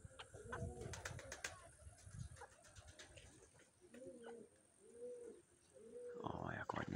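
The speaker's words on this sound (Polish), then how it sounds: "A to są same te starsze gołębie." Older racing pigeons from a second brood coo in a loft, with several soft, rounded coos in a row and scattered chirps and rustling around them, fairly close against a quiet background.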